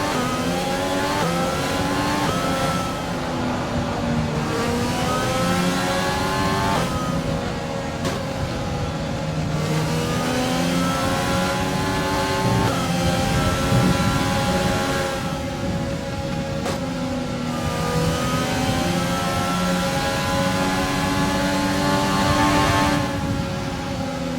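An F1 car in F1 2020 at Spa-Francorchamps, Belgium, pulls away with a loud, close engine whine, revving up through the gears in repeated rising sweeps, each climb cut off by a quick shift.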